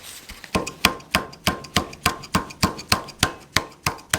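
Rapid, evenly spaced metallic taps, about three per second, as a small SU carburetor choke cable part clamped in a vise is knocked loose; sharp, close strikes with brief ringing decays and no talking.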